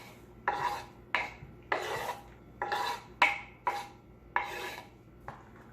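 Chopped onions go into a pan for baked beans and are stirred, giving about eight rhythmic, fairly close scraping strokes with short pauses between them. No one speaks.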